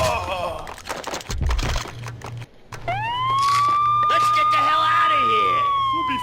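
A police siren wails in the Max Payne video game, rising loud and close after a brief stretch of game voices and thumps, then holding a sustained, wavering tone.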